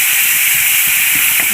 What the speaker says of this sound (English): Just a teaspoon of water there, and we'll fry.